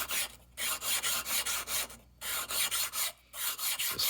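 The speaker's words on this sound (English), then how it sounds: "This is a medium grit grinding stone." A plastic Lee Loadmaster auto disk is rubbed back and forth on a medium grit grinding stone to flatten it, giving close, steady rasping strokes in a regular rhythm with brief pauses.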